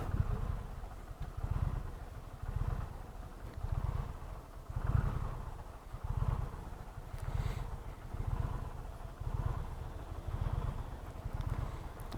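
A 2020 Indian Challenger motorcycle rumbles while being ridden, its engine surging and easing in repeated low swells every second or so, steady and fairly close, with no talking.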